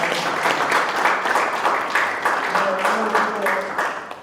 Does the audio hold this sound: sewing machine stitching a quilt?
no